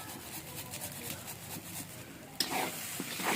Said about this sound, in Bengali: এবার এটা একটু নেড়ে নেব।